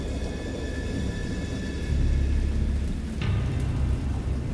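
Steady rain and a low rolling rumble of thunder fill a stormy soundscape, continuous and fairly loud, with a swell partway through.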